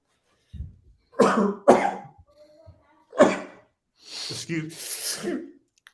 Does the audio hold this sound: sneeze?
yes